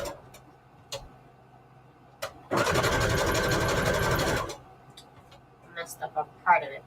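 A sewing machine stitches a zigzag on scrap lace in one steady, loud two-second run of fast, even motor whirring and needle clatter, with quiet room sound before it and a brief voice afterward.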